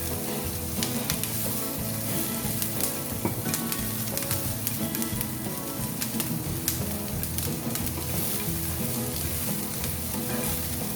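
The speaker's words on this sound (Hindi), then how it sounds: "फ्लेम को हम बिल्कुल लो कर देते हैं और यहाँ पे हम डालेंगे अपनी सब्जी" Vegetables sautéing in butter in a pan on a low flame, a dense, steady crackling sizzle with constant fine pops, close up and continuous, with no talk.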